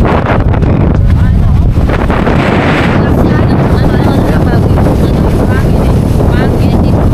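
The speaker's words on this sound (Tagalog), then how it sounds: "Hangin. Mahangin." Strong wind buffets the microphone in steady gusts over open sea at Bolinao, with a boat's rumble underneath.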